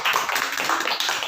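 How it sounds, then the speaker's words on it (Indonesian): Applause from a class of students at the close of a classroom group discussion, a dense, steady patter of many hands clapping together at moderate loudness, sustained throughout without pause. "Mari kita beri aplaus untuk kita semua."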